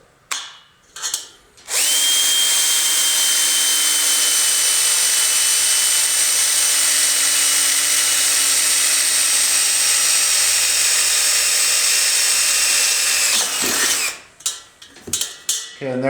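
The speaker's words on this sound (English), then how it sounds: "So we're going to drill that pilot hole." A power drill whirs at a steady high pitch for about twelve seconds while drilling a pilot hole to mount a ceiling fan switch, preceded and followed by brief handling clatter.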